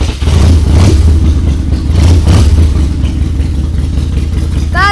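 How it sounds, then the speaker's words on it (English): A loud, close motorcycle engine rumbles and revs steadily as the motorcycle is parked in a garage, with a rough mechanical clatter throughout. "He's parking the motorcycle back in the garage, so sorry if it's pretty loud."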